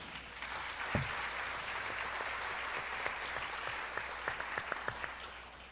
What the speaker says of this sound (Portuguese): merecem bravamente os nossos aplausos